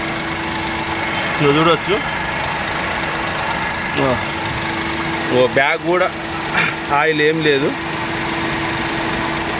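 A used car's engine idles steadily with a low constant hum throughout, while someone talks over it in several bursts.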